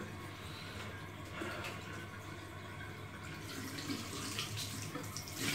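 A tap running warm water into a bathtub for washing a Norwegian Forest Cat, a constant soft gushing and splashing that stays steady and fairly quiet, growing slightly fuller toward the end.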